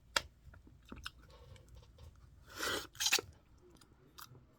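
Someone eats Bravo vanilla light ice cream, with soft, close chewing and crunching bites scattered across a quiet background, including a couple of louder crunchy bursts near the middle.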